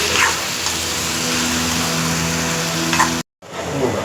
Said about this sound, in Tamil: கொஞ்சம் நல்லா செவக்கிற மாதிரி வதக்கணும் அவசியம்.